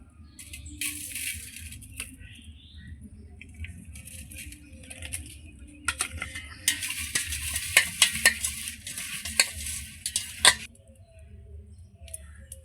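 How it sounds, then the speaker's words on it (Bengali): Duck eggs being mixed with salt and turmeric in a bowl: irregular scraping, stirring and clinking strokes over a low background hum, intermittent at first, then busier and more rapid before stopping. "আমি ডিমের মধ্যে এখন লবণ হলুদ মিশিয়ে নেব"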